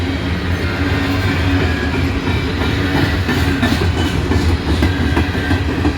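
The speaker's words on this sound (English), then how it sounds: "Flat spots on that car's wheels." Empty freight cars rolling past on a rail line, their wheels carrying flat spots, giving a loud, continuous rumble with rhythmic clickety-clack and thumping, close by and without voices.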